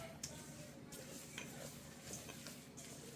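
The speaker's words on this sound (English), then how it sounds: "we're gonna go ahead and add our sugar in. We're gonna stir this up." Light brown sugar being stirred into chewy chocolate chip cookie dough in a bowl, heard as soft, repeated scraping and mixing strokes, quiet and close with no voice.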